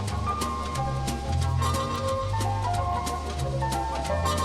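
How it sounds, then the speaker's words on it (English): Muted trumpets sent through a fast delay, steady layered brass and echoing repeats over snare drum and bass at moderate level. "Muted trumpets going through that delay."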